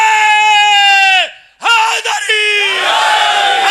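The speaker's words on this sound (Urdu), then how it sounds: "دوبارہ نعرہ لگائیں" A crowd at a religious gathering for the 21st Ramzan martyrdom of Hazrat Ali loudly shouts a slogan in unison, a long sustained chant that breaks off briefly and then rises again into a second massed shout.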